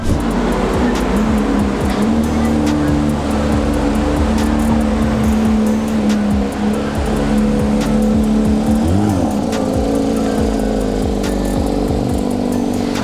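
A Tiffany-blue Porsche 911 992 GT3 RS driven outdoors by the sea, its engine loud and close, rising and falling through revs with a rumbling, rasping tone for several seconds.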